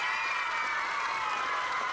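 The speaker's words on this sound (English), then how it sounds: "Give him a round of applause, please." A game-show studio audience claps for a contestant, a steady, moderately distant patter of applause that stays even throughout without any speech over it.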